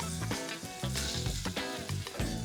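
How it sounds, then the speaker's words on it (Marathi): Chopped onion sizzles and fries in a hot pan for Khandeshi masala khichdi, a steady close crackle with a few stirring bumps and no talking. "आता मग कांदा घालणार आहोत."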